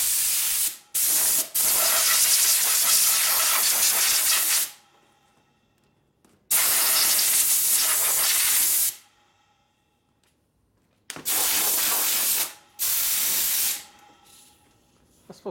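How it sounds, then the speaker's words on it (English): Compressed air nozzle blowing in a shop during a top-end repair on a 1958 Harley-Davidson Panhead 74ci, three loud broadband hissing bursts of a few seconds each, separated by quiet gaps, with no talk. "Get an air nozzle up there."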